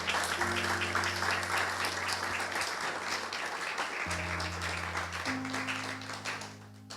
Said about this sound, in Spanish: Démosle un fuerte aplauso al Señor entonces.